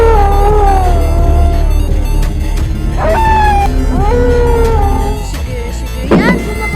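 A dog howls and whimpers inside a scary pocong tower-climbing video game, rising, wavering cries repeating over a steady droning game soundtrack, loud and close, with a sharper yelp near the end.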